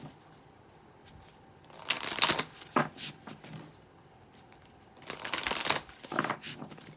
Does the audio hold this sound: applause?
no